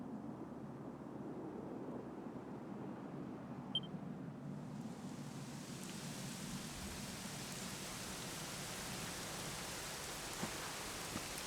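Steady rain falls in the video game Dragon Quest XI, a continuous hiss of drops on surfaces that swells louder partway through, alone with no voices.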